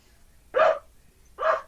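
Two separate barks from a dog, evenly spaced about a second apart, fairly close and moderately loud against a quiet background, with no talking.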